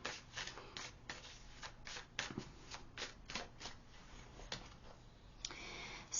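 Oracle cards are shuffled by hand in a rapid series of soft riffling slaps and flicks, quiet and close, with no talking.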